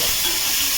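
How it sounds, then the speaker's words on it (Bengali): Vegetables frying in oil over low heat, a continuous close sizzling hiss that holds steady throughout the short stretch, with no voices. "এরকমভাবে আমি হালকা আঁচে বেশ ভালো করে ভেজে নেব।"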